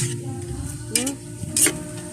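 Chicken broth being stirred into sizzling vegetables for lumpia in a pan: soft scraping strokes and a couple of sharp utensil clinks against the pan over a steady background hiss.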